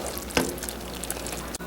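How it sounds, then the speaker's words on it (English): A sugar, cream and butter fudge mixture for orange creamsicle fudge bubbles and sizzles steadily in a pot as it is stirred, with a brief scrape of the spoon near the start. "Continue to stir it while it's doing this boiling stage."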